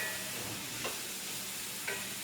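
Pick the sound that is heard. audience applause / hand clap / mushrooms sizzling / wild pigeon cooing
mushrooms sizzling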